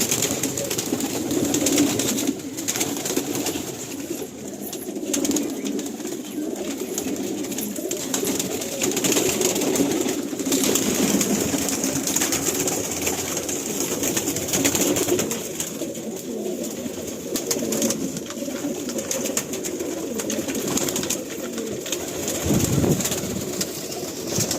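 Many pigeons coo together inside a loft, a steady overlapping murmur of throaty calls with occasional flutters, continuous and moderately loud throughout.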